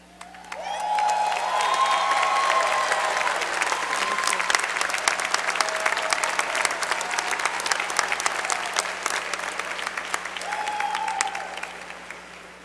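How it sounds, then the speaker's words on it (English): Crowd of graduates at a 2017 spring commencement for the School of Architecture, Planning, and Preservation stands and cheers, with loud sustained applause and whoops that swell, hold steady for several seconds, then taper off. "Will the graduates of the School of Architecture, Planning, and Preservation please stand up and cheer?"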